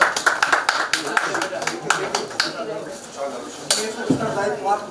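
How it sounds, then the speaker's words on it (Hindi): An audience at an IPC awards event applauds to welcome guests, brisk close clapping in bursts that thins out, while a voice talks over it throughout. "जोरदार तालियों से स्वागत करिए"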